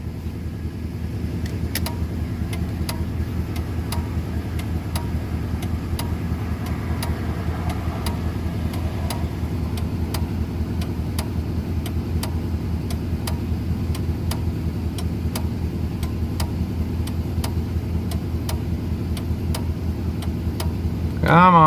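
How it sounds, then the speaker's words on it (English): A truck drives along a road at night with a steady low engine and road rumble throughout, plus faint intermittent ticking like a turn signal. "it's so awesome to be in my own truck on the road"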